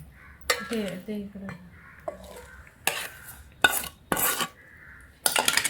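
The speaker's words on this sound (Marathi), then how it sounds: "ह्याला मिक्स करून घेऊया छानपैकी" A spoon stirs mixed vegetable pickle in a pan, with sharp scraping strokes and clinks against the metal in irregular bursts, close and fairly loud, separated by brief quiet moments.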